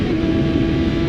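A 2019 Kawasaki Ninja ZX-6R motorcycle engine drones loud and steady on a street ride, a close, continuous hum with no talking.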